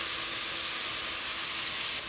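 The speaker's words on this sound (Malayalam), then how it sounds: "അതുപോലെ നമ്മുടെ ചെറിയുള്ളി അരിഞ്ഞു വെച്ചതും കൂടെ ഇതിലേക്ക് ഇട്ട് കൊടുക്കാം" Sliced onions and shallots frying in ghee while being stirred for a Kerala mutton roast, a continuous even sizzle with soft spoon scrapes, close and moderately loud with no speech.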